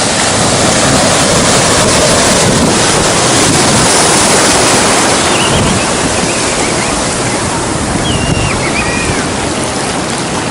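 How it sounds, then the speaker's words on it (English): Ocean waves break over the end of a pier in a loud, continuous wash of surf, thick with spray and roaring water, with some wind buffeting the microphone throughout and no talking. "The water's just starting to break over the end of this."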